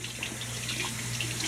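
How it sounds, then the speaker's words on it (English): Tap water runs steadily into a bathroom sink to wet a synthetic shaving brush, a close, continuous gush heard alone. "we're going to go straight to the sink. And just wet the brush"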